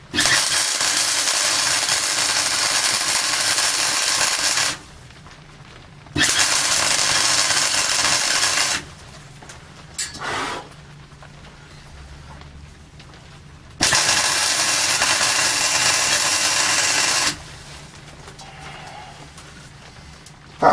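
Welder buzzing while joining scrap metal for a small forge, in three long steady bursts of several seconds each separated by quiet pauses, loud and close.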